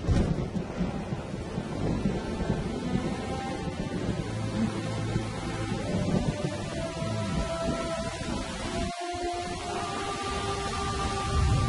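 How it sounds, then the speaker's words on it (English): Heavy rain pours steadily in the African wild, the first rain in eight months, with low rumbling thunder and gusty noise beneath it and no voices. "The first rain for 8 months."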